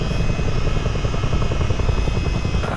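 Aircraft departing Bessemer Municipal Airport in Flight Simulator, a loud, steady engine drone with a rhythmic rotor-like throb that fills the whole stretch.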